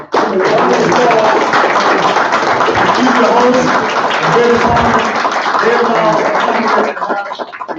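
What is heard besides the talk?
round of applause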